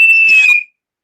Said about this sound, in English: It's the rape whistle.